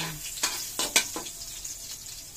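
Garlic hisses in a hot pan while frying for sweet and sour fish, with a steady soft sizzle broken by a few sharp clicks of a utensil scraping and stirring.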